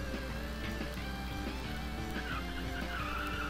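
Car in the Need for Speed racing game sliding around a curve, a steady engine drone under a rising tire screech that builds toward the end, continuous and close with no talking.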